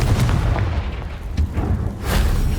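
A Confringo blasting spell detonates in the Hogwarts Legacy video game, a loud low booming burst that rumbles on with a second surge near the end, with no talk.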